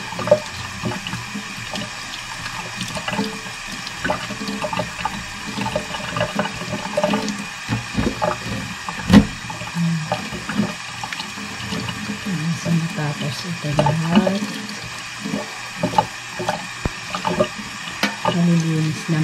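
Tap water runs steadily while milkfish (bangus) is cleaned for sinigang, with scattered splashes and clatter, and voices talk over it now and then.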